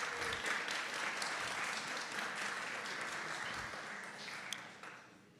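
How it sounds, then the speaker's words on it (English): Audience applause at an innovation and entrepreneurship awards night, a dense, steady round of clapping from a crowd that holds strong for several seconds, then thins and fades toward the end. "If we could welcome each other with a round of applause"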